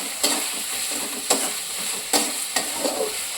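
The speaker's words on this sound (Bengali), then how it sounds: "আর এই যে পেঁয়াজগুলো ভেজে ভাজতে হচ্ছে" Onions frying in a pan for a Bengali chicken curry, a steady close sizzle broken by four sharp stirring scrapes, with no talk.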